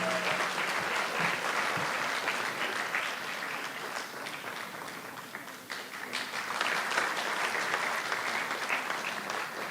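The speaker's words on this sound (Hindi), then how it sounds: "तालियां बजती रहनी चाहिए सार्थक सिंह के लिए भी।" A theatre festival audience applauds a stage director whose play was based on Rashomon. Dense, continuous clapping from a full house holds at a steady level for the whole stretch.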